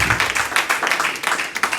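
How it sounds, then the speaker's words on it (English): A church congregation claps for the elder after his message, a brief burst of quick, uneven hand claps close by with a hint of voices mixed in. "Let's give Father a hand clap, Elder John, for giving us a word."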